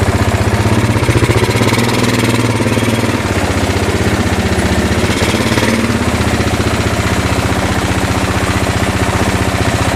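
A 2000 Kawasaki Lakota ATV engine runs steadily on a first ride, a loud, close, rapid chugging single-cylinder putter with little change in pitch, no voices.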